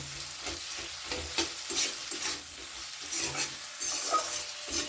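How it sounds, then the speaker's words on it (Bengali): Cheesy egg mixture being stirred in a pan over a low flame, with a steady soft sizzle and repeated scraping strokes of the spatula close by, no voices. "আমি এবার এটা একটু ভালো করে নাড়াচাড়া করে নেব"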